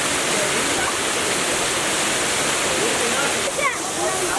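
A remote waterfall near Tequila, Mexico roars in a dense, continuous, loud rush of falling water. A faint voice briefly calls out over it near the end.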